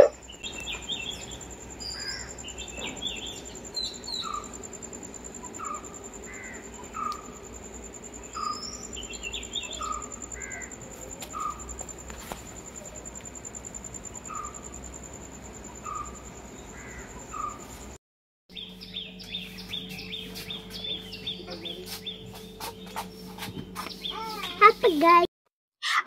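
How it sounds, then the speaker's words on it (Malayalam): Small birds chirp repeatedly and a crow caws outdoors around a home kitchen, over a steady drone of crickets. Partway through, the scene cuts to a different backdrop with a low hum and scattered calls. "ആ ഒരു കിളിയുടെ സൗണ്ട് ഇങ്ങനെ വീഡിയോയുടെ പല ഭാഗത്തായിട്ട് ഇങ്ങനെ"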